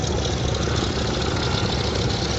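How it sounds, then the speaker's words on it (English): Twin 900 horsepower Rolls-Royce gas turbines of Westland Lynx helicopters flying at the Duxford Air Show give a loud, steady, dense roar with a high whine laid over it. The noise holds at a constant level throughout, with no voices. "you can also hear the high whine of the two 900 horsepower Rolls-Royce gas turbines"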